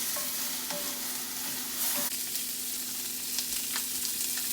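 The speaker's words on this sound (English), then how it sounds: "So I am quickly sauteing the veggies I'm going to use to toss into my pasta." Ginger, scallion and chilies sauté in sesame oil in a cast iron skillet, giving a steady close sizzle with a few light scrapes and taps of stirring throughout and no voices.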